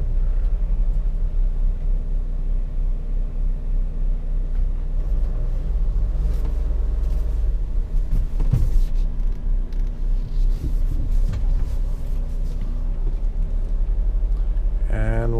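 A 2018 Mercedes-based Thor Freedom RV idles low and rumbling as it backs slowly into a parking space, a steady engine drone throughout with light background sound.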